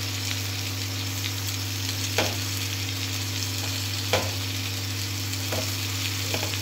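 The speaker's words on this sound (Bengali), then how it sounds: "এবার দেবো আদা আর কাঁচা লঙ্কার পেস্ট।" Ginger and green chili paste sizzle steadily in a hot frying pan of potatoes for a Kashmiri alur dum, a constant close frying hiss with a few brief stirring clicks and no talk.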